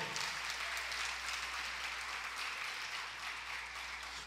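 Congregation at a church service applauding steadily and continuously, a dense wash of many hands clapping at moderate volume, with no voices over it.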